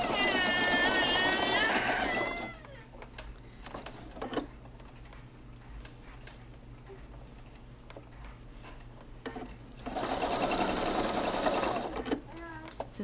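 Sewing machine stitching leg casings around the leg hole of knit sweater longies, loud rapid stitching bursts at start and end with a quieter pause between, and talk heard throughout.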